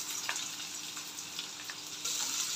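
Onion sautéing with garlic and curry leaves in a pan, a faint continuous sizzle with a few soft stirring scrapes, growing a little louder and hissier toward the end.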